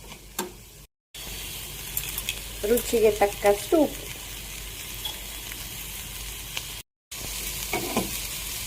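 Tempering sizzles steadily in a pan for moringa leaf chutney, a soft crackling hiss running under a person speaking briefly, with a couple of light utensil ticks.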